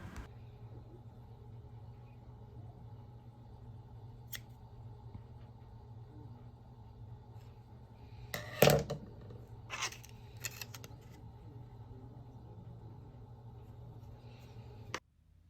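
Scissors snipping through a plastic bottle to cut petal shapes for upcycled flowers: a few sharp, close cutting crunches in the middle of an otherwise quiet stretch with faint background hum.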